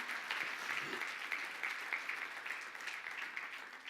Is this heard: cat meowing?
no